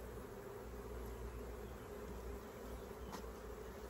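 A dense, steady hum of many honeybees buzzing close by around an open hive, continuous and even, with no voices.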